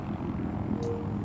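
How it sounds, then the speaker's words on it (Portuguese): Enemy helicopter in Battlefield 4 on Xbox 360, a steady low rotor and engine drone running throughout at moderate loudness, with no talk over it. "Tem um helicóptero inimigo."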